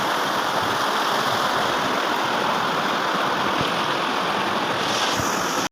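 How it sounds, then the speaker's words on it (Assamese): Fast-flowing river water at Bhairabkunda, where the river comes down from Bhutan, rushes in a loud, continuous broadband roar close by, with no voices. "পানী স্পীড চাব কিমান স্পীড পানী গৈছে"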